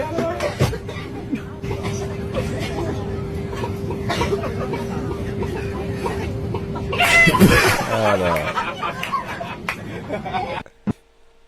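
A boy aboard a plane imitates a chicken with his voice, a run of clucking, chortling sounds that builds to a loud squawking burst near the end, set against steady cabin hum, with other voices nearby.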